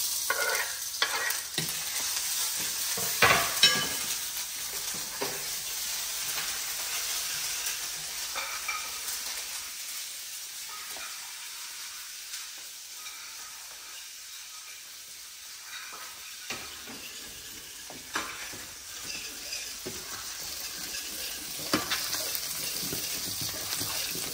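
Ginger garlic paste and spices fry in hot oil for a samosa filling, giving a steady sizzle and hiss with stirring scrapes throughout. The sizzle settles quieter midway, then picks up again.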